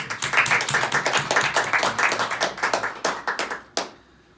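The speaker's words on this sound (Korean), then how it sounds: "우리 박수로 한번" A church congregation claps in a brisk, close run of handclaps that thins into a few final claps and then stops.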